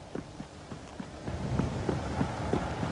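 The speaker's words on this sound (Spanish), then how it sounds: "Ahí viene. Es un galope rápido." A horse gallops fast, its hooves striking in quick irregular clip-clop beats that grow louder and closer. No voices are present.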